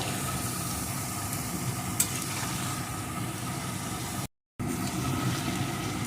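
Vegetables with turmeric and slit green chillies sauté in a pan with a steady, soft sizzle, broken by a brief moment of silence.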